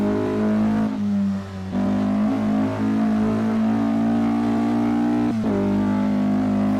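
A Porsche 904 GTS racing car engine in a historic racing game mod holds a steady, droning high-revving note, with a brief dip and a sharp gear-change blip before climbing back.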